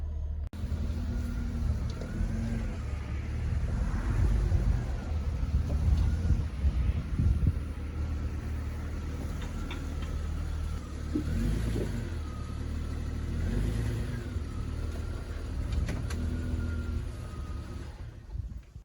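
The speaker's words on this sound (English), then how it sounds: "Now I'm going to pull the vehicle up on the ramps." A 2004 Jeep Grand Cherokee with the 4.0L engine drives up onto car ramps, its engine rumbling steadily and revving now and then, with wind buffeting the microphone throughout and no talking.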